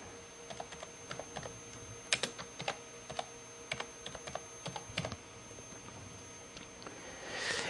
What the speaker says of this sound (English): Okay, now I'm going to go ahead and type in my title